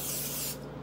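Olive oil sprays into a pan in one short, close hiss that cuts off abruptly, with no voices.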